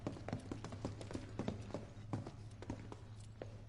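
Loud footsteps of characters in Final Fantasy VII Remake, a steady run of sharp hard taps over a constant low hum, with no voices.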